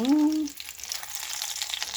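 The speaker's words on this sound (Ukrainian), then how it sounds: "І на повільному вогні обжаримо із обох боків." Pounded meat chops fry gently in a pan over low heat, a soft steady sizzle with faint crackles following a brief voice at the start.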